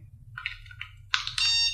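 Electronic beeps from a remote anti-bark dog shock collar: a few short chirps, then a longer steady tone, close and clear over a low background hum.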